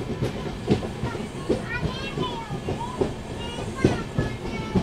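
An Amrit Bharat Express train pulling into Sirpur Kagaznagar station, heard from on board: steady rolling rumble with rhythmic wheel clatter over rail joints, faint background voices.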